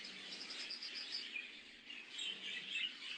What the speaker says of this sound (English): And here the birds.